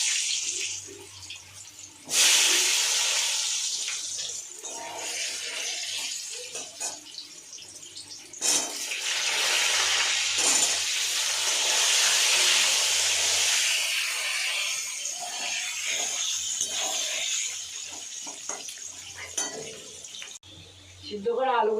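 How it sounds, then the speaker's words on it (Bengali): Boiled potatoes frying in hot oil, a loud, close hissing sizzle that surges in bursts and holds steady, with faint talk in places. "সিদ্ধ করা আলুগুলোকে তেলে লাল করে ভেজে নিলাম।"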